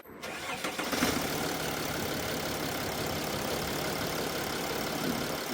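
A 2007 Mercedes W211 engine cranks and catches about a second in, then settles into a steady, quiet, even idle that runs on without a break.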